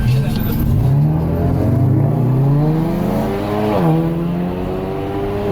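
A Chevrolet ATS with the 2.0 LTG engine and a ZZP catted downpipe revs up in a long rising sweep, dips briefly and climbs again, loud and close throughout.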